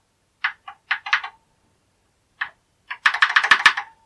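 Keys being pressed on a Tatung Einstein TC-01 home computer keyboard, heard as a few separate clacks, a pause, then a quick close run of clicky strokes, fairly loud with no talking.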